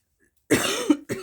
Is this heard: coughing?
yes